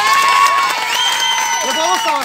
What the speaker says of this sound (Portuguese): palmas pra Raira, gente.